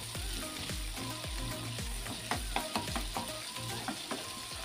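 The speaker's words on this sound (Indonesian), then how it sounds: "ini aku akan goreng bahan untuk sambelnya ya" Tomatoes and shallots fry in a pan for sambal, a close, steady sizzle broken by regular scraping stirs, with no talk over it.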